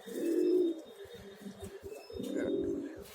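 Pigeons coo in a loft, two long throaty bursts of cooing with quieter murmuring between them, fairly close and alone with no talk.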